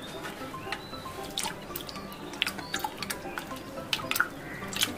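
Sliced potatoes for homemade chips are rinsed in a bowl of water, giving soft, irregular splashes and drips that go on steadily at close range.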